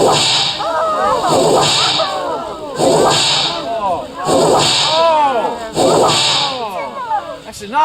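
Whip lashes crack loudly and repeatedly in a staged flogging at a passion play of Jesus's trial, a steady series of sharp strikes over a busy crowd and shouting voices.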